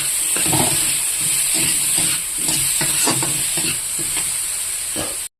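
Chicken balls dusted with chilli powder fry in a pan with a loud, steady sizzle, while a spatula scrapes and stirs in irregular strokes, close throughout.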